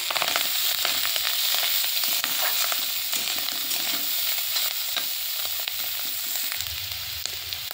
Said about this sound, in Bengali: ওই তেলে দিয়ে দেব সেই গেঁড়িগুলো, দিয়ে একটু ভেজে নেব।